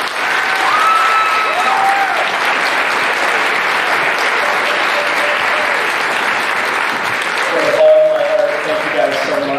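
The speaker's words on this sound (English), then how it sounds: "let's give them one more round of applause" Loud, sustained applause from a school concert audience after a high school concert band and symphonic band performance, a dense even clapping that fills the hall, with a voice speaking briefly near the end.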